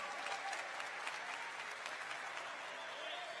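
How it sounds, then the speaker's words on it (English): A crowd applauds steadily throughout, a dense wash of clapping with no pauses. "Give her, Valentina, a big round of applause."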